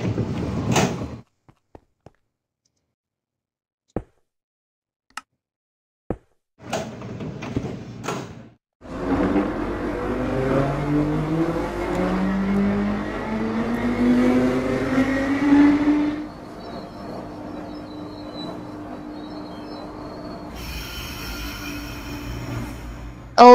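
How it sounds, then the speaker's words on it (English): A train arrives in Minecraft on a transit railway line, with scattered sharp clunks and then a rising mechanical hum and whir that swells over several seconds before shifting to a brighter hiss. "The first train."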